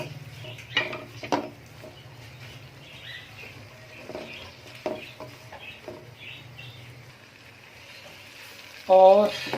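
Ginger paste sizzles quietly in a frying pan while vegetable and chicken fried rice is being cooked, a soft crackle under scattered clinks and light handling noises, ending in a brief louder clatter.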